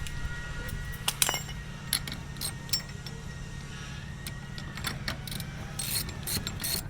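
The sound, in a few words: ratchet strap being tightened on a Jerr-Dan wheel lift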